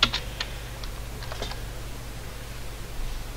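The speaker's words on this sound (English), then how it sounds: "I'm just going to type it" Light, quick keystrokes on a computer keyboard during sign-making software use, a few soft clicks early then fading over a steady low hum, close and quiet with no talking.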